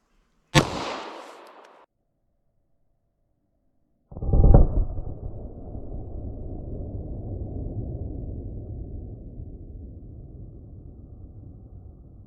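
A single sharp .40 S&W shot from a maximum expansion hollow point fired through 1/4 inch MDF into clear ballistic gel cracks loudly, then after a pause a long rumbling roar trails off slowly.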